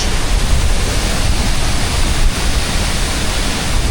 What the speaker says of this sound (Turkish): bu şelale bütün Güneydoğu Asya'daki en büyük şelaleymiş